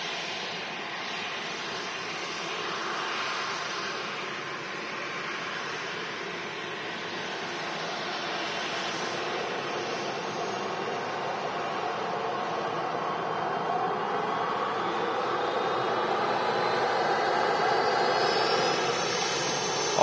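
A jet airliner at Manchester Airport roars steadily from a distance, its engine noise swelling as thrust is applied, with a rising whine near the end and no talking.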